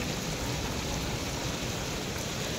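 Steady, dense rain pours down without a break, a broad hissing wash that stays at the same loudness throughout, with no voices.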